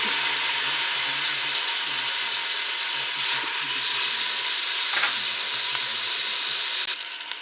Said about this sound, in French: Mon beurre est fondu, je ne vais pas attendre la fin du préchauffage, je vais faire revenir mon rôti.